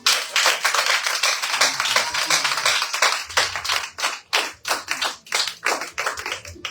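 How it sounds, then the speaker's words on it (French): Church congregation clapping together during a service, a dense, loud, rhythmic patter of many hands that keeps an even beat. "on acclame le Seigneur pour ça"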